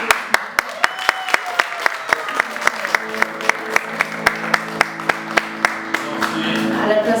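An audience at a Brussels gathering applauds the mayor: a strong, regular rhythm of sharp claps, with music or voices underneath and a swelling crowd noise near the end.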